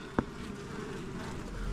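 Bees buzzing in a hive as it is opened, a steady close drone holding throughout, with a single sharp tap near the start.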